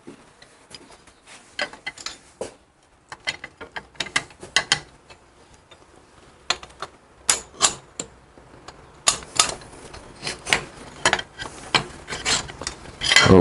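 Metal clicks, clinks and ratcheting clatter come from rocker shafts and rocker arms being removed from the rear rocker box of a Harley-Davidson Evo Fatboy, sounding as irregular close taps that grow louder and denser near the end, with no talking.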